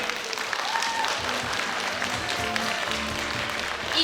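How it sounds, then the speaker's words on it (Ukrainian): An audience applauds at a dance studio's annual showcase concert. The clapping is sustained and even, and it swells slightly at the end. "попрошу вас підтримати їх, аплодувати їм і надавати свою енергію."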